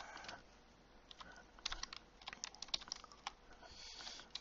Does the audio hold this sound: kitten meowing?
no